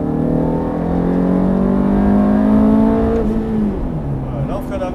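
Race car engine at Mettet accelerating hard out of a corner on track, a loud sustained in-car drone rising in pitch, then briefly dipping and climbing again, with someone talking over it throughout.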